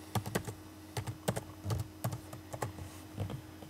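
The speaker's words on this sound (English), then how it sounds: "just type in CyberDuck" Fingers typing on a computer keyboard, close and fairly quiet, with bursts of rapid key clicks separated by short pauses and no voices.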